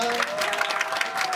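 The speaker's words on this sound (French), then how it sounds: "Je propose qu'on les applaudisse quand même, qu'on applaudisse Bernard." Audience applause for Bernard at a live show, a steady dense wash of clapping from a crowd across the whole moment, with a faint sustained tone running beneath.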